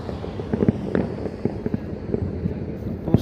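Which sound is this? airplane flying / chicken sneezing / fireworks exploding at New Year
fireworks exploding at New Year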